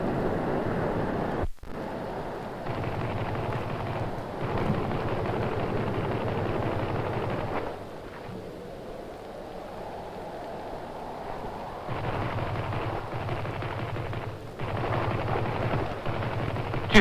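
Distant gunfire at sea in a wartime film, low rumbling bursts and booms under steady wind and surf noise, rising and falling in intensity over a long stretch with a sharp crack near the start.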